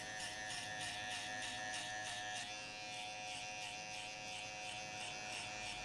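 An electric hair clipper fitted with a number 2 guard buzzes steadily and faintly through a fade haircut, a continuous high-pitched drone with no talk.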